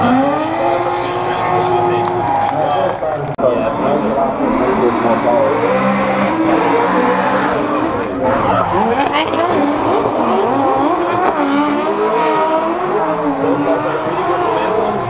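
Drift cars race at Drift Allstars Estonia 2015, engines roaring and revving continuously with tire noise, under a steady stream of commentary.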